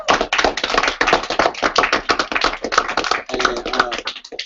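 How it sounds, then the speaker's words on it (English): Training group giving a round of applause, a dense, continuous burst of many hands clapping up close that fades out at the end. "Give yourself a round of applause for actually making it out."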